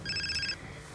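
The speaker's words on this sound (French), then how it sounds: "C'est quoi ce téléphone?" Telephone ringing indoors, a short burst of bright electronic ring tones that stops about halfway through, leaving low background hum.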